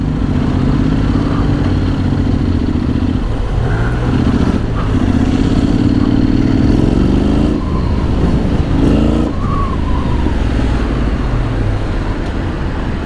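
A custom Honda X-ADV 750 scooter-style motorcycle pulls away, its parallel-twin engine rumbling loudly up close and rising through several revving pulls with brief dips between, accompanied by some mechanical clatter.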